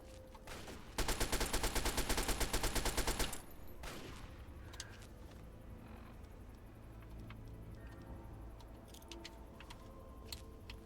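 A loud sustained burst of rapid machine gun fire in the game Fallout 3, lasting about two seconds, followed by quieter ambient game sounds and scattered clicks and impacts.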